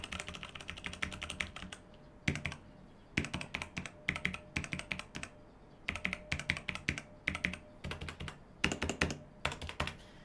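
Typing on a Tecware mechanical keyboard with brown switches: quick bursts of close, muted clacks separated by short pauses.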